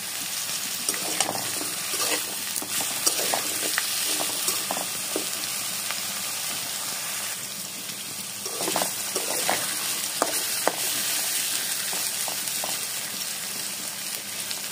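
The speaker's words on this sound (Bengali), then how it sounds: "দিয়ে দেব বেগুন কুচি, আলু কুচি দিয়ে এর মধ্যে দিয়ে দেব লবণ, হলুদের গুঁড়ো দিয়ে এবার সব ভালো মতো একসাথে নাড়িয়ে নেব।" Chopped eggplant and potato with salt and turmeric are stir-fried in a pan, a dense, steady close sizzle with repeated scraping and stirring strokes throughout, with no voices.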